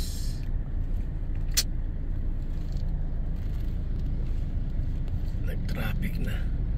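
Low rumbling road traffic heard from inside a moving vehicle, a constant engine and tyre drone with occasional higher hiss and clicks, voices faintly present.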